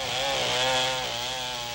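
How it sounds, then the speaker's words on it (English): Chainsaws felling trees in the Sarawak rainforest, a steady, continuous engine drone with a buzzing, harmonic-rich whine that holds at even loudness throughout. "The Penan hear the chainsaws day in and day out"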